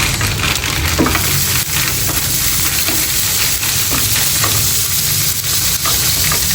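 Frozen mixed vegetables hit hot oil in a pan and fry with a loud, steady sizzle and crackle, broken by occasional scraping stirs, with no voices.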